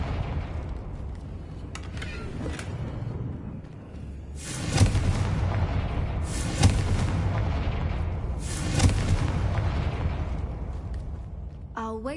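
In Hogwarts Legacy, a Confringo blasting curse sets off three booming explosions a couple of seconds apart, each with a rumbling tail, over a low game ambience.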